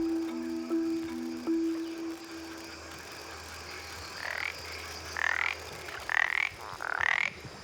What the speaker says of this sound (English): Living in ponds near the river is a common frog called the paradoxical frog.